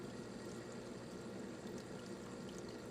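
A reef aquarium pump runs with a steady, close rush of water draining into the filter sock, a constant broadband splashing flow with no talk over it.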